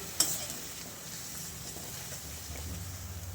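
Dhaba-style potato masala gravy cooking in oil: a low, even sizzle and soft bubbling close by, with a sharp tap at the start and a slight swell of stirring noise near the end.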